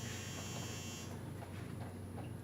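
A steady electronic buzzer drones for about a second, then cuts off, leaving a low hum and room noise behind.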